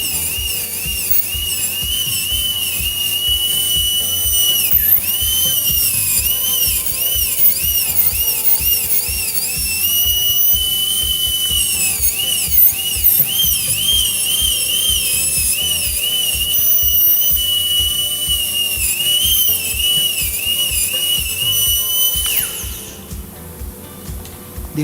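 High-speed dental drill with a bur cutting guide grooves into a tooth for a metal-free overlay: a continuous high-pitched whine that wavers in pitch under load, with a faint low rumble beneath, stopping just before the end.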